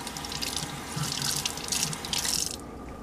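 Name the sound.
rinsing Berkey water filter under tap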